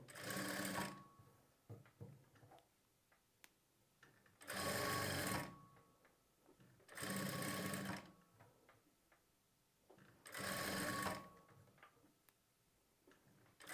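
A sewing machine stitching piping onto a blouse runs in four bursts of about a second each, separated by quiet pauses filled with faint ticks and handling clicks, close and fairly soft.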